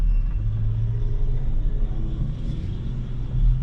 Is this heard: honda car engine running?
yes